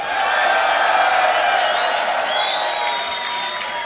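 A crowd at a beatbox battle roars with cheers, whoops and applause, a loud, sustained wall of noise with whistles cutting through toward the end.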